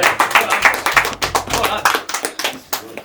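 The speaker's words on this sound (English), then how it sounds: "First things first, round of applause." Footballers clap together in a locker room at halftime of a local derby, a dense run of quick, close hand claps with some voices mixed in.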